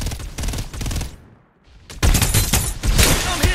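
Dense, loud automatic gunfire bursts in the video game Farlight 84, rapid shots rattling continuously, then breaking off briefly before another sustained barrage resumes.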